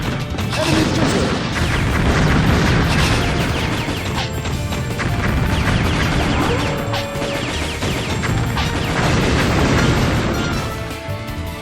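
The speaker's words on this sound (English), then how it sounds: "Grenade." Grenade explosions crash and boom repeatedly in the Metal Slug 3D video game, loud and dense over a continuous din of game music and effects.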